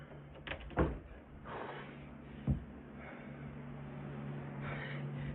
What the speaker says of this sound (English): was that damn door?